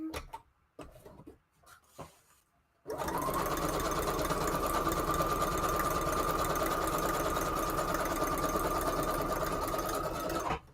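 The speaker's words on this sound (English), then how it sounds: "that was the last piece of lace I had to sew" A sewing machine stitching lace starts after a few scattered handling clicks and then runs at a steady, rapid mechanical chatter with a constant whirring hum, close and loud until it stops at the end.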